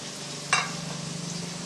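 Chopped tomatoes sizzle as they sauté in a pan for a dry fish curry, with a steady low frying hiss and one brief scrape of stirring early on.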